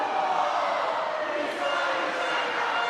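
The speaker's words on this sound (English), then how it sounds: "The York crowd going crazy with their chants" The York crowd chants loudly and steadily at a women's volleyball match during the Roses 2025 varsity tournament, a dense wall of voices filling a large indoor sports hall.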